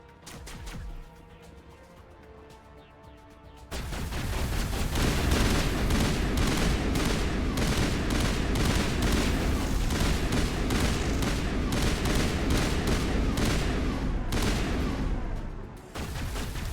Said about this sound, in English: What is everyone shooting at?